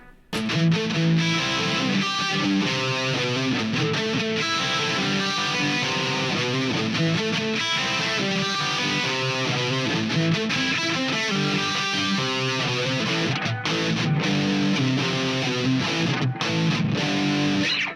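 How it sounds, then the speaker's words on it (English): A Donner DLP-124S Les Paul-style electric guitar with distortion, compression, delay and reverb plays a continuous melodic passage with a washy, echoing tail, loud and alone. "I have a little bit of delay on it. I got distortion on, I got compression on"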